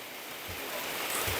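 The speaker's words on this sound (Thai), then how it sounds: "ฝนตกเสย ตกแรงซะด้วยนะท่านไม่ได้ตกเบาเลย" A heavy downpour during a storm makes a steady, broadband hiss that swells slightly, close and unbroken, with no voices.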